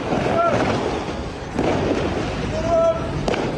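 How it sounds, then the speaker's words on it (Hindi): Blasts from fighting in Jerusalem between two armies ring out as a few sharp, distant bangs over a steady rumbling background, with faint whistling tones in between. "दोनों तरफ से बारूदी आतिशबाजी की जा रही है।"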